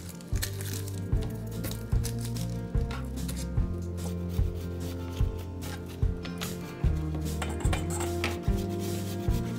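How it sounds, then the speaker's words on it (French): Onions being chopped with a knife on a board for a grandmother-style coconut milk shrimp curry, a steady series of sharp, evenly spaced cuts repeating close up, heard alone without talk. "moi je vais m'occuper de couper les oignons"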